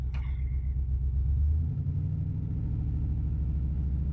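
A car engine idles as a low, steady rumble, then rises briefly as the throttle is pumped before settling back. Close and fairly loud, with no voices.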